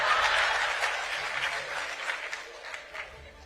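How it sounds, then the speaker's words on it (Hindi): An interview audience breaks into applause that starts strong and gradually thins and fades over a few seconds. "मैं चाहूंगा जोरदार तालियां हो इस पर।"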